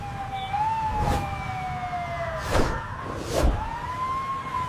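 An ambulance siren wails, rising and falling in long sweeping tones, passing with traffic whooshes and a couple of loud vehicle swooshes nearby.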